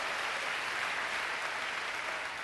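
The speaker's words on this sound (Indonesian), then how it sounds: "Tepuk tangan bagi Allah kita." Steady, dense applause from a church congregation fills the space evenly, a continuous wash of many clapping hands with no voices on top.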